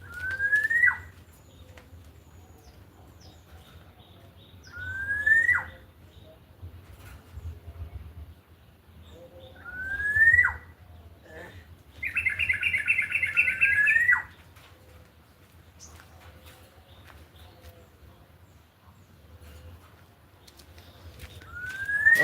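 Caged songbirds, including a weaver bird, give a series of short rising chirps every few seconds, with one longer trilling burst, over faint background hum.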